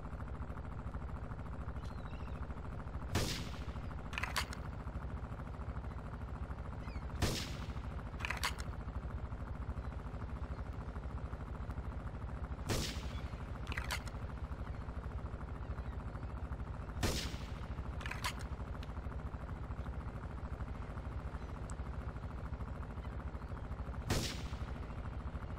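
Sniper rifle shots in GTA III crack loud and sharp at spaced intervals, mostly in close pairs, over a low steady game background.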